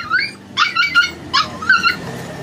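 A puppy whimpers and yips in a series of short, high, nasal cries, close and fairly loud, coming in uneven bursts with brief pauses between them.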